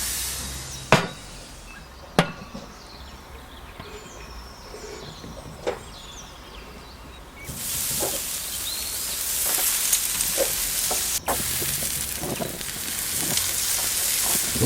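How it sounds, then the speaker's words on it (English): Baby back ribs sizzle as they are mopped with sauce during barbecue cooking, a steady frying hiss rising partway through, with a few sharp knocks and clicks from the grill early on. "It's now time to mop the ribs."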